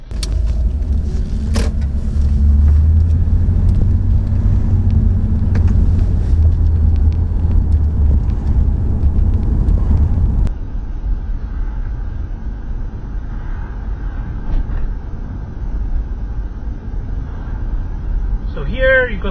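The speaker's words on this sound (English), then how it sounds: "Okay, let's go for a drive." A car drives along a wide road lined with parked cars on the outskirts of London, heard from inside the cabin: a steady, loud low rumble of engine and tyres that eases to a lighter road hum partway through.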